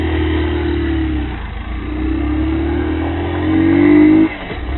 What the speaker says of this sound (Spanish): Vamos a ver cómo arranca la moto.